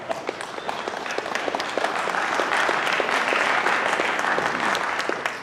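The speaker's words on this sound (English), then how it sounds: "yeah, you can clap." An audience at the ANYCON 2018 security conference kickoff claps for a sponsor, a steady, dense round of applause from a sizable crowd that swells and holds throughout.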